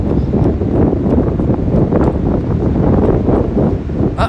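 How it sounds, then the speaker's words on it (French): Strong wind blows steadily outdoors during a run near the water's edge, roaring loud and close across the microphone with constant buffeting gusts and no clear talk. "le vent est de retour"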